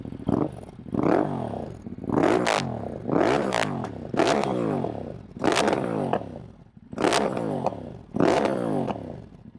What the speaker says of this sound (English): So this is a kind of exhaust sound.